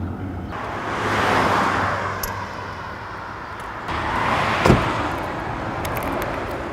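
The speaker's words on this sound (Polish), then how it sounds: "Jedną rękę kładę na kierownicy i lewą ręką kieruję, a prawą dodaję gazu i hamuję." Automatic car fitted with hand controls for throttle and braking driving along, a moderate engine and road noise swelling twice with a brief knock partway through.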